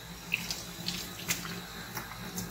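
Water runs from a tap to rinse out a Graco TrueCoat Plus II paint sprayer, a steady close stream with a few light splashes and clinks against the sprayer.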